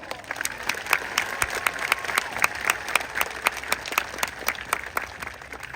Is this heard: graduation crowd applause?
yes